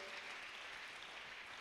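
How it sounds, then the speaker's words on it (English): A church seminar congregation applauds together in a dense, steady wash of hand claps. It sounds faint and distant, holds evenly through the short moment and comes with no voices on top. "give the Lord a big hand clap"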